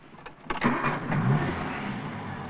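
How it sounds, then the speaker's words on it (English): A car engine cranks briefly and catches, then settles into a steady idle, close and fairly loud, heard from inside the vehicle during a 1980 UK driving test. "Start the engine."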